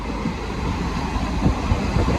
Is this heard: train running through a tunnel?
yes